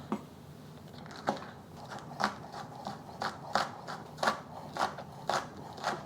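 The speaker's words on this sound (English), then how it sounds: "I have 1 green onion. I'm just going to chop this up" A knife chops through a single green onion on a cutting board, about a dozen crisp, evenly spaced cuts in a steady rhythm, close and fairly quiet, with no talking.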